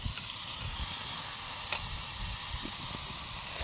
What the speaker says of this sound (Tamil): இப்போ வந்து காளான் சேர்த்திக்கலாம் காளான் வந்து சேர்த்து வந்து போட போகிறோம்